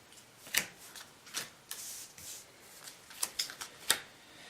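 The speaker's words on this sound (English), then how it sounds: "I'm just going to quickly go through these cards." Trading cards from a Rivals of Ixalan sealed pool being flicked through and sorted by hand, a series of soft, quick card snaps and slides spaced irregularly, close and fairly quiet with no talking.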